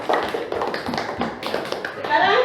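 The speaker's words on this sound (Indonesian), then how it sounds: "Tepuk tangan." Children in a classroom clapping their hands in a quick, uneven patter of taps, mixed with voices talking over the claps and a brief shout near the end.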